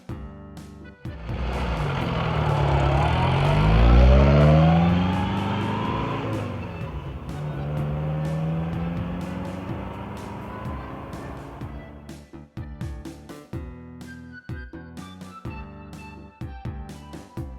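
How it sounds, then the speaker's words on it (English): A toy Army Wrangler's engine effect revs and accelerates, rising and falling in pitch like a car speeding past, loud and continuous for around eleven seconds before stopping, with faint clicking afterward. "Army Wrangler."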